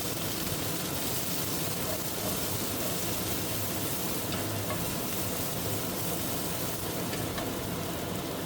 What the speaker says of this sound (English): Then the broccoli, let them sear until they blister slightly,